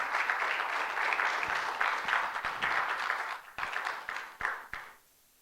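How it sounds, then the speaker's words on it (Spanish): Church congregation clapping during a service, a sustained round of many hands that thins into a few scattered claps before fading out. "dele palmas al Señor, porque Él es bueno."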